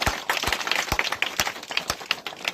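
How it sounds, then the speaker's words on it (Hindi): A Hindi rally audience claps in response to a speaker's call, a dense patter of individual hand claps with a few sharper slaps standing out, moderately near and steady throughout. "तालियां बजाइए।"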